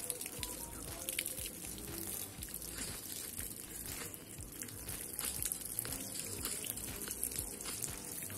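Water pours and splashes over a Samsung Galaxy A53 5G phone during a drenching durability test, a dense continuous spattering that stays fairly close and steady throughout with no voices.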